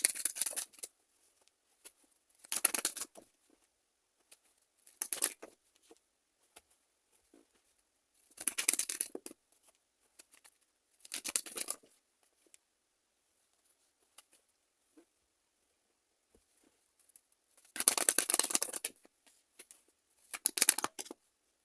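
Tarot cards are shuffled and drawn by hand: short papery riffling bursts come close and clear at irregular intervals, separated by near silence, with no talking.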